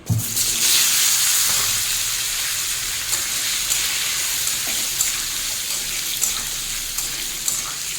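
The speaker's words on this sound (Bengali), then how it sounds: "এই একই কড়াই এবার ভেজে নেব আলু" Potatoes fry in oil in a wok, giving a loud, steady sizzle that starts abruptly and holds evenly throughout, with occasional faint stirring taps and no talking.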